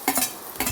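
Onion just added to a pan for mutton cutlet filling being stirred, a few short scraping clinks of a spoon against the pan, close and brief.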